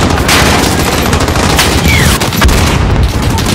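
Heavy gunfire in the Call of Duty: Modern Warfare combat campaign, with dense bursts of rifle and automatic fire and booming impacts, loud and continuous throughout without any speech.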